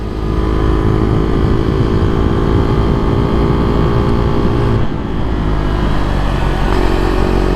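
A 2022 Husqvarna Vitpilen 401 motorcycle engine drones loud and steady while riding, with a brief dip in the middle, and no one speaks over it.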